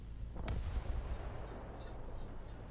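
Artillery fire in the tank game War Thunder: a single sharp distant blast with a low rumbling tail, heard alone over steady battlefield noise.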